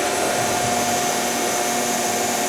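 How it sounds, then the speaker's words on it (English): P&H hydraulic press pump motor idling, a steady constant whine and hum with a stable tonal pitch, unchanging for a few seconds with no talk. "I'll start the pump motor up."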